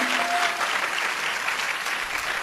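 Audience applause at a Telugu Christian church sermon, a steady dense wash of clapping that holds loud and even for the whole stretch with no voices over it.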